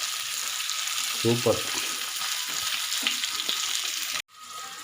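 Fish, murrel and red snapper, frying in a pan in a village kitchen, a steady close sizzle throughout with a few brief voice sounds and a sudden cut near the end.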